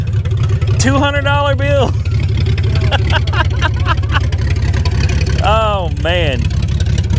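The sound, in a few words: BMW 325xi E46 car engine running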